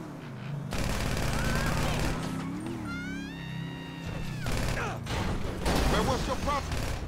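Gunfire in GTA V: bursts of rapid shots and crashing impacts mixed with revving engines and screeching, loud and busy throughout, with in-game voices talking amid the action.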